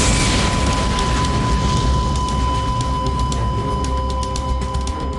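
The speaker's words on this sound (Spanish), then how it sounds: "Entonces se escuchó una enorme explosión." A loud, sustained roaring rumble from an aircraft at about 2000 metres shortly after takeoff. Dense low-end energy fills the whole stretch, with a steady tone and faint crackling on top, with no voices.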